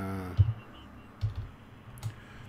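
Computer keyboard keys tapped while dialing in a frequency in ham radio SDR software: three or four soft, close clicks spaced unevenly apart, with no voices.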